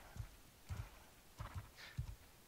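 Horse hooves clip-clop in a medieval game world, a few paired low thuds in a loose walking rhythm, fairly quiet and close, with no talk over them.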